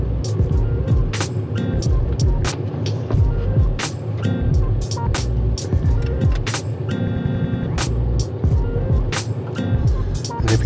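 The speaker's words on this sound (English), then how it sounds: "Looks like we have a police truck driving in the opposite direction on the right here." A police truck drives past in the opposite lane on a road in Savai'i, heard from inside a moving car as engine and road rumble with a brief whoosh, amid repeated sharp clicks and knocks from the cabin.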